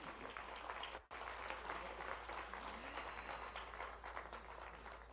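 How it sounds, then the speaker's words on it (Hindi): A crowd at a public event in Shajapur applauds the arriving chief minister, a dense continuous roar of clapping hands with a low steady hum beneath and a momentary dropout near the start. "जोरदार ताली के साथ स्वागत करें"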